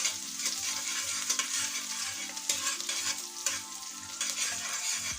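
Chopped onion frying in oil with whole cloves, cinnamon, cardamom and bay leaf, a steady bright sizzle with the soft rhythmic scrape of stirring running throughout, close and fairly loud with no voices.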